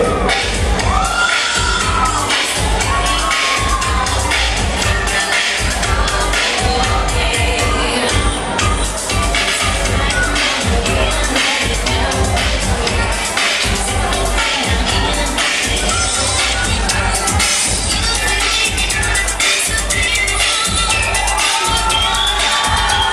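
Loud, dense crowd cheering and shouting at a beauty pageant as a contestant celebrates on the runway, a continuous roar with whoops and claps running throughout, close and steady.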